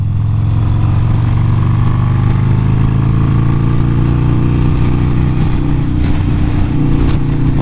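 Harley-Davidson Sportster 48 motorcycle engine droning steadily at speed on a bumpy, undulating road, a continuous loud rumble with slight pitch shifts and no voices.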